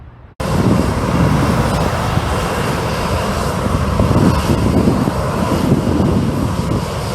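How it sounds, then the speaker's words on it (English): A Southwest jet preparing to depart runway 15 gives off a loud, steady broadband engine roar that starts abruptly and holds constant throughout, with no talk. "There is a Southwest jet getting ready to depart runway 15."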